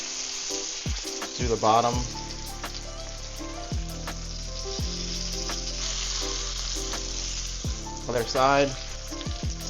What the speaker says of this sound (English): 1 tablespoon of butter is going in. Okay, that's just a quick sear on that.